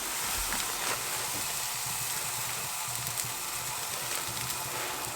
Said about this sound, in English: Barbecue and steak